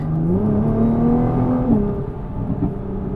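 A Nissan GT-R T-Spec with automatic transmission pulls hard on an open road, its engine note climbing steadily and loud from inside the cabin, then dipping briefly as it shifts and continues.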